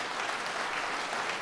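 Brief burst of steady audience applause at a political campaign event, a crowd clapping evenly throughout with no speech over it.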